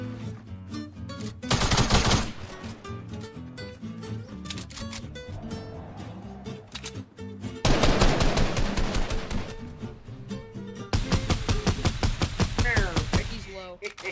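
Rapid bursts of gunfire in the Fortnite video game, loud and dense, coming in several separate volleys over about fourteen seconds with game sounds between them.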